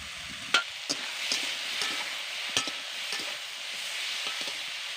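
Freshly cut vegetables fry in a pan, giving a steady close sizzling hiss with a few sharp clicks and scrapes of stirring scattered through it and no talking.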